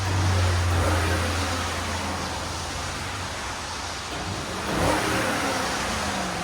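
A 2012 Lexus LS460 with a 4.6L V8 engine and stock exhaust revs up near and steadily, loud with a deep low hum throughout and a second swell of revving near the end.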